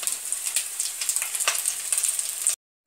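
Eggs frying in a pan for a homemade Indian egg curry, a steady close crackling sizzle with small pops, heard alone with no talk, cutting off abruptly.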